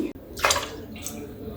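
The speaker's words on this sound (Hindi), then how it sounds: "पहले इसमें भर के पानी डाल देते हैं, लगभग 1 गिलास पानी" Water poured from a glass into kadhi batter in a kitchen, a short bright splashing pour of about half a second followed by a soft trickle, close and moderately loud.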